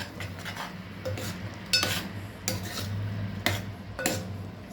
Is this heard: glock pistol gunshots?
no